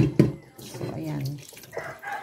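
Raw meat being rinsed under a running tap, close splashing and gurgling water that shifts and swells as the food is moved, with a voice speaking briefly over it.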